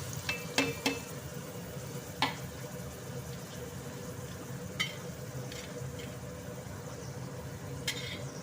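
Snake gourd pieces frying in hot oil for a curry, a quiet steady sizzle with several sharp utensil clicks against the pan scattered across it, close by and with no talking.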